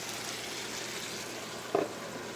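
Seasoned vegetables cooking down in a pan, salted and peppered, give a steady low sizzle throughout, with one brief louder clatter near the end.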